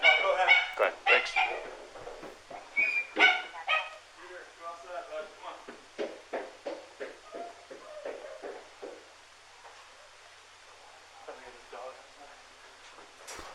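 A dog barks in a rapid run of repeated yaps during a walk-through of a home, mixed in with people talking nearby.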